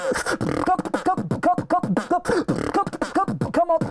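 A voice imitating a drum kit: rapid, steady beatbox rhythm of percussive kick, snare and hi-hat sounds with short vocal tones, close and loud.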